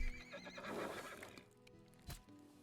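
A horse at a stable in the video game Yendorian Tales 2 whinnies in a loud, drawn-out neigh, then snorts and clops briefly, all quite close and with no talk over it.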